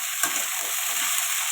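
Bitter gourd and potato pieces sauté in a hot pan, giving a steady, close, continuous sizzle with faint stirring scrapes and no voices.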